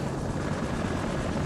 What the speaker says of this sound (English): Oh, the helicopter, look.